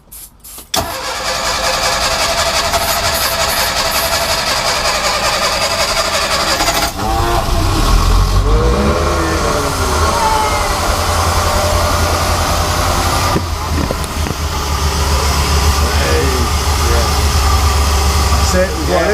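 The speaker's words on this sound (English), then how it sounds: "We've got an engine. I'll tell you what, it sounds better, it sounds sharper, doesn't it?" A restored boat engine starts and then runs steadily, giving a loud, continuous mechanical drone close by for most of the stretch, with brief changes in tone. A few short bursts of talk come in near the start.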